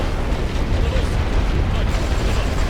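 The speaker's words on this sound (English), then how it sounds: "Artillery's coming down now." Artillery shells bursting in the World War One strategy game Great War Western Front, a dense, continuous rumble of heavy booms and blasts that stays loud for the whole stretch.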